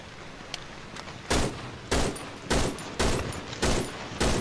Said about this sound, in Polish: Tu strzelam.